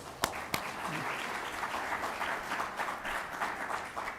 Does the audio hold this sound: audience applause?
yes